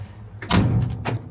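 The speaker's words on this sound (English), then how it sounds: "You shut the door." A 1971 Ford F-350 dump truck door shuts with a single solid thud, close by, followed by a lighter second knock or rattle a half second later.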